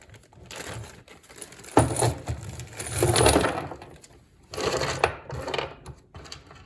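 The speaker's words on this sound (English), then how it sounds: "Another bag of bolts. Let's go ahead and pour those out." Metal bolts poured out of a bag during assembly of an Overlander kit, a loud scattering metallic clatter in two bursts with a quiet pause between.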